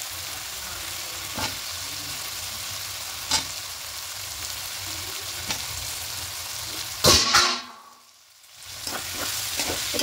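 Potatoes sizzle and fry in a pan of hot oil for a cauliflower and potato dish, with a steady hiss and occasional scrapes from stirring, then a loud burst and a brief drop before the frying resumes.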